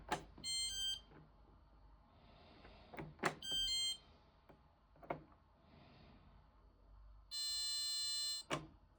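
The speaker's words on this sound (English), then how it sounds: "hold down the Start Pause button for 5 to 10 seconds until a beep is heard." A Bauknecht washing machine beeps three times: two short beeps and then a long sustained tone, separated by quiet clicks and button presses on the Start/Pause button.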